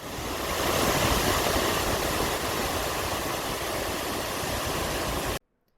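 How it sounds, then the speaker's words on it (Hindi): Chitrakote waterfall, India's widest, on the Indravati River in the rainy season: a loud, steady, broad roar of falling water that holds constant and then cuts off abruptly near the end. "इंद्रावती नदी पर स्थित चित्रकूट जलप्रपात भारत का सबसे चौड़ा जलप्रपात है"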